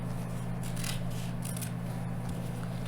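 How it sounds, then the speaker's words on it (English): Scissors snip through quilting fabric around an arc wedge template, a few short, soft cuts over a steady low background hum. "I'm going to go ahead and cut that arc wedge. This is going to be the fabric for my background."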